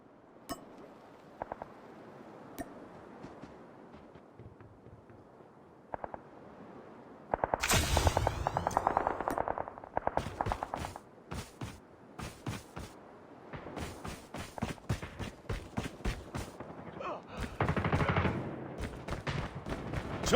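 Nail gun firing in Call of Duty Mobile, a fast run of sharp mechanical shots in bursts with quieter gaps, set against low game ambience and scattered clicks.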